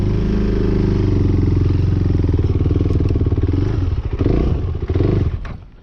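A KTM 390 Duke motorcycle engine idles roughly and loudly up close with a lumpy, uneven pulse, then stumbles and sputters before stalling out into silence.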